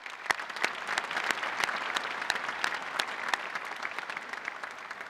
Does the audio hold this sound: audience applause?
yes